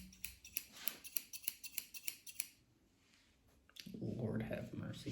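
Scissors snip hair in a home haircut, a quick run of a dozen close, sharp cuts, then a pause and a louder burst of brushing or rustling near the end, with a voice faintly present.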